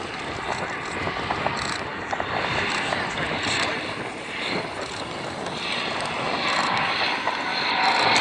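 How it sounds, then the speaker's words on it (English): Royal Aircraft Factory SE5A replica biplanes passing overhead at an airshow, a steady, moderately loud engine drone mixed with wind buffeting across the whole stretch, as a commentator speaks over the public address. "Above us here, from right to left, are examples of the Royal Aircraft Factory SE5A."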